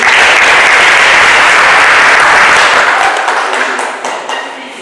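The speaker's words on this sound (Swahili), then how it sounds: "tujipigie makofi kwa hiyo" An audience at a Kenya Red Cross Society annual general meeting in Bungoma breaks into loud, sustained applause that holds steady, then gradually tapers off toward the end.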